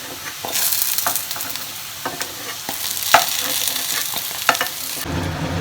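Chana dal dhoka fries in a pan with a steady, close sizzle, interrupted by occasional sharp clicks and scrapes of stirring, with no talking.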